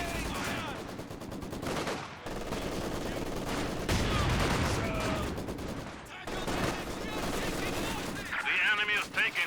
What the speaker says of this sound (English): Maxim suppressing them nicely